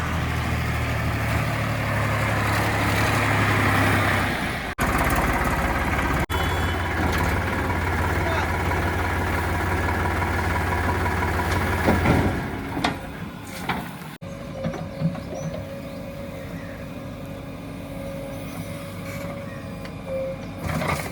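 A JCB 3DX Xpert backhoe loader idles steadily at a worksite while loading soil into a Sonalika tractor, giving a continuous low engine rumble with some clanks and shifts in tone, and someone talks over it.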